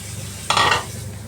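A spoon stirs chili and eggplant into a boiling mung bean stew in a pot, producing a single brief swishing, bubbling burst over a low simmering background, close and alone.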